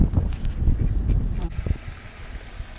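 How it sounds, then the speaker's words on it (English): Ducks quacking and honking near water during a fishing outing, a few close, raspy calls over wind and handling noise, then quieter. "These ducks is over here."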